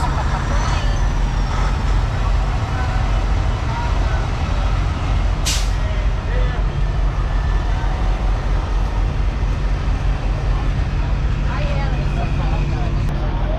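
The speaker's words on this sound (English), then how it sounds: "Watching trucks come in and out." Show trucks move in and out at a truck show, giving a steady rumble of heavy diesel engines and traffic with one sharp air-brake hiss, while people chat nearby.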